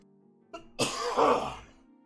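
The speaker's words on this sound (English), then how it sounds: "The coughing got worse today." A single harsh cough bursts out close to the microphone, preceded by a small throat sound, against a quiet room hum.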